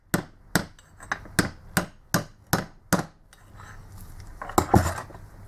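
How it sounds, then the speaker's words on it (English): A screwdriver taps a bushing into place in a Bosch 110 series starter motor with seven sharp, evenly spaced metallic taps. They are followed by a softer scrape and a couple of clattering knocks, close and clear with no talking. "So simply slide that down and we're just going to give it a few taps."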